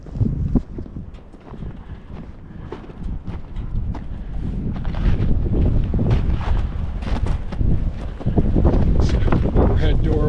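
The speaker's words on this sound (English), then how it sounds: "Every time I think it's calmed down, those gusts really kick up." Strong wind buffets the microphone in loud, roaring gusts that swell and surge during demolition work, with low rumbling bursts throughout and no clear pause.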